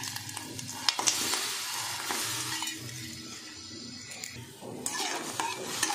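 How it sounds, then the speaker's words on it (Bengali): Jaggery melting with a little water in a wok, stirred with scraping and occasional metallic clinks over a soft bubbling sizzle, close and steady throughout. "গুড়টা ভালো করে জাল দিয়ে নিই"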